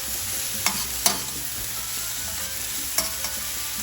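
Onions sizzle in a hot pan for a burrito bowl, a continuous close frying hiss broken by a few sharp utensil taps and stirring scrapes, with no one talking.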